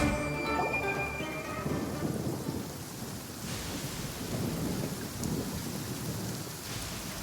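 A booming thunder crack from a Genshin Impact attack bursts out loud at the start, then rolls into a dense rumble and rain-like crackle that carries on steadily to the end.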